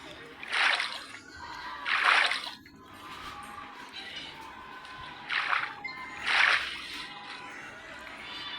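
Water splashing and dripping down in a video game, arriving in about four loud bursts with quieter liquid sloshing between them over a steady background.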